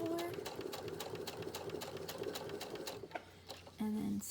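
A sewing machine stitches a curved quilt seam in steady rapid bursts, running continuously for about three seconds, then pausing briefly before starting again, with a faint whine at the end.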